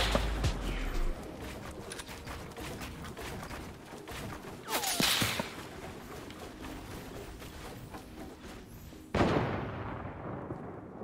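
Sniper rifle shots ring out in Fortnite. Three loud, sharp cracks, each followed by a brief whooshing tail, are spaced a few seconds apart over steady game ambience.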